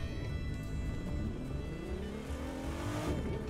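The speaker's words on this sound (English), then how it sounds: "Now you can hear the engine" Car engine in the racing game The Crew 2, a steady droning hum with rising and falling revs as the car accelerates, heard at moderate level without any talk.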